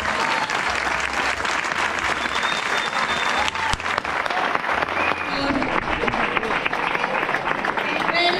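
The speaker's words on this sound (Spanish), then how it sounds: "os pido un fuertísimo, fuertísimo aplauso para ellos" Audience applause at a Speed Carreña trail race in Cabrales, Asturias, honouring the organizers: dense, sustained clapping from a crowd, loud and steady throughout with some cheering mixed in.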